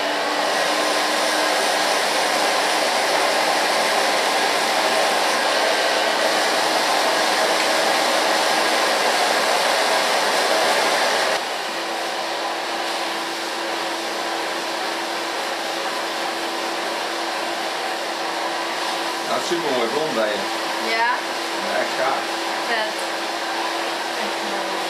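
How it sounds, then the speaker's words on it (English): A hair dryer blows long hair dry with a large round brush while it is styled into a bob. The whine is loud and constant, drops to a lower setting halfway through, and has faint brushing movement under it. "We'll dry it with a large brush and then control it."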